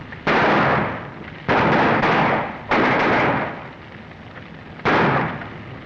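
Gunfire in a western shootout: four loud, sharp shots spaced a second or more apart, each ringing out with a long echoing tail, no talking.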